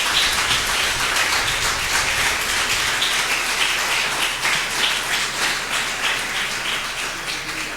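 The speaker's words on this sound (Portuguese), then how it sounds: "Então aplaude o Senhor," A church congregation applauds at a Christmas service, a dense, steady wash of clapping that fills the space and keeps a broad, even level throughout without any voices on top.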